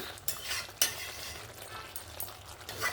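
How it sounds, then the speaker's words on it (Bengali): Potato and cauliflower curry with coriander leaves is stirred in a pan, with utensil scrapes and soft clinks over a light sizzle, and no voices present. "ধনেপাতাটা দিয়েও একবার নাড়াচাড়া করে নেব।"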